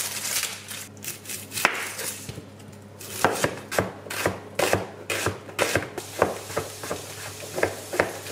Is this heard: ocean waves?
no